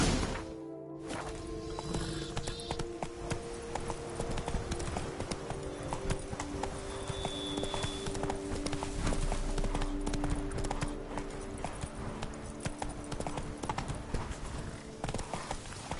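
Horse hooves gallop in The Witcher 3: Blood and Wine, a steady rapid clip-clop running throughout and fairly close, with game ambience underneath.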